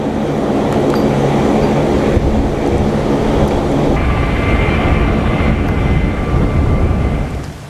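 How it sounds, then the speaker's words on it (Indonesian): An HH-60 Pave Hawk helicopter flying low over Iran makes a loud, continuous roar of engine and rotor noise that holds steady throughout, close and heavy, with no voices. "HH-060 Pevhawk terbang rendah di wilayah Iran"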